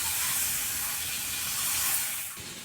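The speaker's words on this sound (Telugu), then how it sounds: "బటర్లోనే వేయించుకున్నాము" Masala, tomato and spices fry in butter for restaurant-style butter chicken, giving a steady, loud hiss and sizzle that continues without pause and softens slightly near the end.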